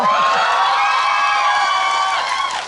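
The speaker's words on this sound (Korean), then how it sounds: "박수 한번 주세요." High-pitched, sustained cheering and screaming from a cinema audience at a Megabox Megatalk event for the film Exit with Yoona. It stays loud and close for nearly three seconds before tapering off, with little audible clapping.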